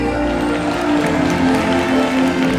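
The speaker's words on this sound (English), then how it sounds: "we're going to give him a nice round of applause. A big cheer!" An audience at a killer whale show applauds and cheers in a dense, steady wash of clapping with continuous background hum, loud and unbroken throughout.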